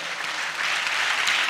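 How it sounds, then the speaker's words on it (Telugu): A church congregation claps loudly in a steady, dense burst of applause that holds at an even level throughout. "గట్టిగా చప్పట్లు కొడుతూ స్తోత్రాలు చెప్దాం."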